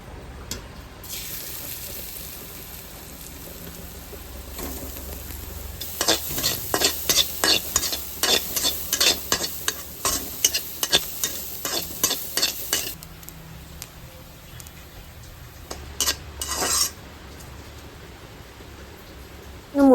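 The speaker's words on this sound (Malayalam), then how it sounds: "അത് ചൂടായി വരുമ്പോഴേക്കും 1 ടേബിൾ സ്പൂൺ എണ്ണയും കൂടി ഒഴിച്ചിട്ട് നമുക്കിതൊന്ന് തേങ്ങയിട്ട് ഒന്ന് മുരിച്ചെടുക്കാം" Grated coconut roasting in a tablespoon of oil in a hot pan, a continuous sizzle with a run of rhythmic scraping stirring strokes in the middle, alone without speech.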